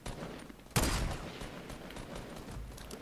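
Gunfire in Fortnite cracks out once in a sharp, loud burst, then fades into a lingering rumble with faint scattered shots in the distance.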